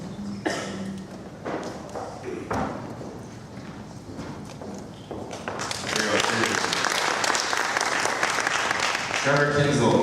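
Audience applause at a business panel event, quieter scattered clapping at first that swells into fuller, louder clapping in the second half, with some talk underneath.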